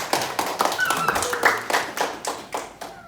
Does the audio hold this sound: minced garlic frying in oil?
no